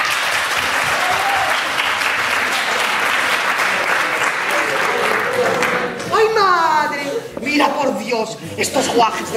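Sustained applause from a gala audience fills the room and then fades, followed by someone talking over lingering scattered claps.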